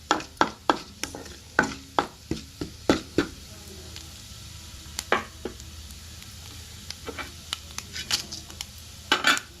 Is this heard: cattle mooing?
no